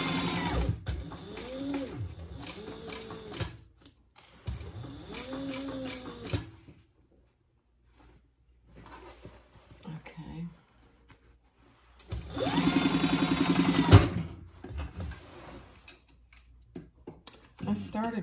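A domestic sewing machine stitches a bag in rapid whirring bursts separated by pauses, close and fairly loud, the longest run near the end, with a voice speaking in the gaps.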